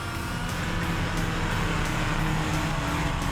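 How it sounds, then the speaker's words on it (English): A car engine roars steadily at full revs before a clutch-dump launch from a standing start, a continuous loud mechanical drone without pauses. "give it full revs, dump the clutch, and away she goes"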